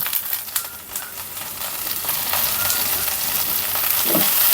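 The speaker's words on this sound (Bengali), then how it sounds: "আমি ধনে পাতাগুলো এখন দিয়ে দিচ্ছি এই যে একটু এর সঙ্গে ভেজে নেব" Coriander leaves fry in a pan for a mashed bhorta, giving a steady, close sizzle with scraping stirs and clicks that grows slightly louder over several seconds.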